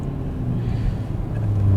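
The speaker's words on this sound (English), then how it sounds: "And you have those little blips on the upshifts." A 2022 Porsche Macan with a dual-clutch gearbox in manual mode gives a steady, close, low engine rumble that swells slightly toward the end, with no voices.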